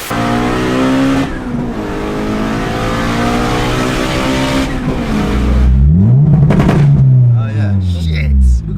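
A B18 turbo Honda Civic launching hard on launch control, engine roaring loud and close as it revs and climbs through the gears, with a voice talking over it.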